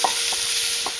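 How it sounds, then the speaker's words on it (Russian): Chopped pork fat (salo) tumbles into a cauldron over an outdoor fire, with a couple of soft thuds of falling pieces against a broad, steady hiss of frying. "Вот я заранее нарезал сальца. Высыпаем прямо в казан"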